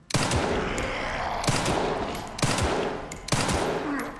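Four loud pistol gunshots ring out at a slow, uneven pace in Resident Evil Requiem, each a sharp crack over a dense, steady game soundscape.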